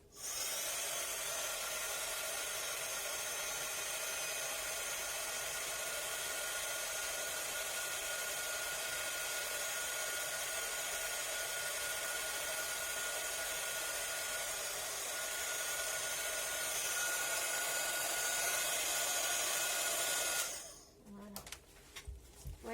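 A heat gun blows steadily to melt embossing powder on a handmade Christmas card, a loud continuous whirring hiss that runs for about twenty seconds and then cuts off abruptly, followed by faint handling noises.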